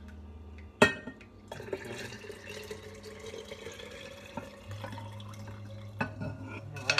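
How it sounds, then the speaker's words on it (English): Herbal dandelion, magnolia and rosemary flower tea is poured from a pot into a glass, with a soft continuous liquid trickle and a few clinks against the glass. Someone speaks briefly. "let me go ahead and pour what I got in here"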